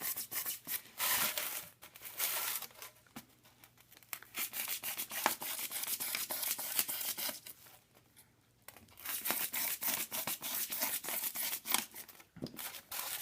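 Cut cardboard pieces are snapped and torn apart by hand over a trash can. Bursts of crackling, crunching and ripping come close up, broken by short pauses.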